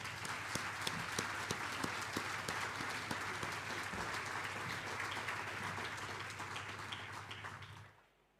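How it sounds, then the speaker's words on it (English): Audience applause at a provincial school awards ceremony, a steady spread of clapping at moderate distance with a low hum beneath, gradually fading out at the end. "Let us give them a massive round of applause."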